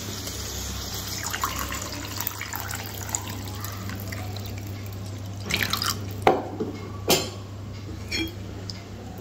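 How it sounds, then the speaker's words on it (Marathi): Water poured and dripping into a simmering pea and potato curry (matar batata rassa), trickling softly over a steady low kitchen hum with a few sharper splashes near the end. "त्या प्रमाणात आपण पाणी टाकणार आहे"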